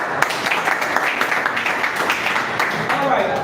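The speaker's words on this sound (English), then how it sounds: "Please clap for yourself." A group of people applauding, steady clapping from many hands that holds at an even level for a few seconds, fairly close.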